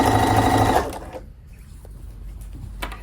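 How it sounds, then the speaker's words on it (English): A sewing machine runs a fast, steady stitching burst along a fabric edge for under a second, then stops, leaving quiet room noise with faint clicks and handling sounds. "I'm going to just sew to the 2 side seams."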